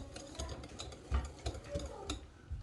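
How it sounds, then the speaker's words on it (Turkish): A wire whisk stirs cake batter with blue poppy seeds in a bowl, giving quiet, irregular scraping and tapping strokes at close range, with no talk. "Güzelce tel çırpıcıyla karıştırıyorum."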